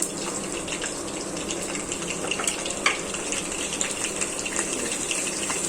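Cumin seeds hit hot oil over a low flame and give a steady, fairly quiet hiss, dotted with small pops and crackles throughout.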